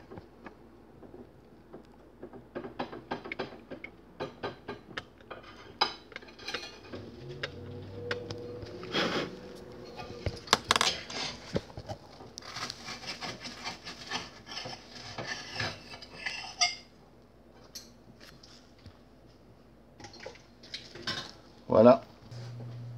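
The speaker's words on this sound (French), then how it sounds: "On peut gratter vis-à-vis la ligne blanche avec un tournevis, juste pour être sûr qu'on voit bien." A screwdriver scrapes along a line on the circuit board of Sony MDR-IF3000 headphones under repair, giving repeated faint close scratching and rubbing strokes in irregular bursts, with a few small clicks of handling.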